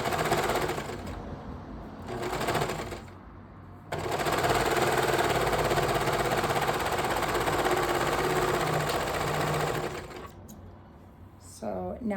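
A sewing machine stitches a cuff onto the bottom of a sleeve, running in a steady mechanical whir for long stretches with brief pauses between bursts.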